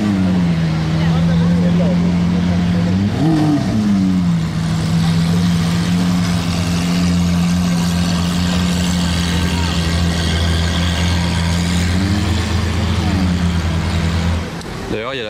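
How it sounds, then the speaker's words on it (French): A Porsche GT2 RS with a red Alcantara steering wheel rumbles loudly at close range on a Monaco street, its engine a deep, continuous drone with a brief rising rev partway through and a smaller swell near the end. "cette GT2 RS qui résonne bien fort"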